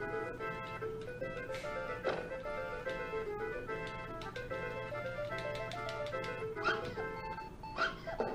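Chiptune-style game music from Earthworm Jim 2's Puppy Love level, with small cartoon puppy barks and yips popping over a steady melodic loop, near and clear.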